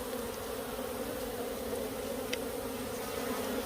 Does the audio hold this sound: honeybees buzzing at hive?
yes